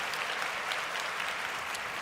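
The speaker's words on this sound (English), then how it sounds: "So y'all gonna give me a round of a damn applause for that" An audience applauds during a 49ers football show, a dense, steady burst of clapping that stays loud and even throughout without pause.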